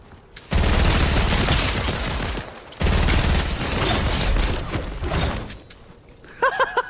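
Loud, sustained automatic gunfire in the video game Fortnite, two long dense bursts up close with a short gap, ending with a few tinny pickup or reload blips.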